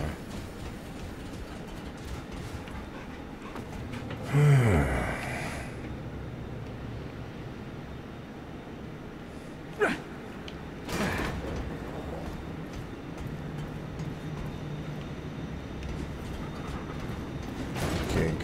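A moving train in the video game Remnant 2 rumbles steadily with metallic creaks, clanks and a couple of sharp screeching squeals, heard close and continuous throughout.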